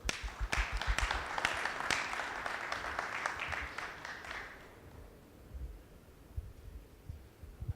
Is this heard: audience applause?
yes